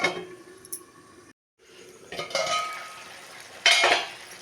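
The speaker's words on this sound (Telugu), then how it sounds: "నేనైతే మూత పెట్టేసుకుంటున్నాను" A metal lid clatters onto a cooking pot of ridge gourd curry simmering in its own water, with a couple of short clinks and scrapes against the rim, close and fairly loud in an otherwise quiet kitchen.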